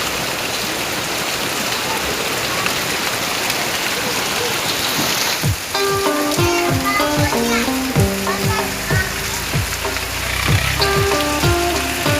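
Heavy rain pours outside a house in a dense, loud hiss for several seconds, then gives way to a tuneful melody of plucked notes.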